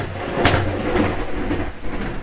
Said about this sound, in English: That lightning. You guys probably heard that.